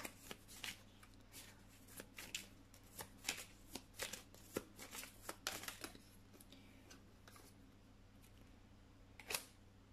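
A tarot deck is shuffled by hand for a card reading. Quiet, rapid, irregular riffles and flicks sound close up in an otherwise hushed room.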